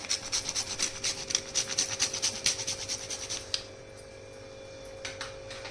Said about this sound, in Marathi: थोडं जायफळ किसून टाकायचं